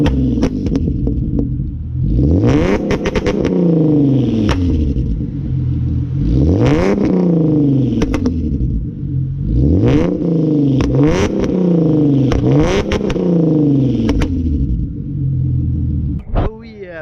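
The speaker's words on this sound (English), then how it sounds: "All right, so the car is warmed up. Let's go ahead and get it started up and give it some revs." A Hyundai Genesis Coupe 3.8 with a Solo Performance exhaust revs repeatedly, five or six rising and falling blips over a deep burbling idle, close and loud, with crackles on the overrun.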